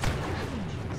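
Blaster fire in a Star Wars video game, a steady run of sharp energy shots and low booms filling the short stretch, with a faint voice underneath.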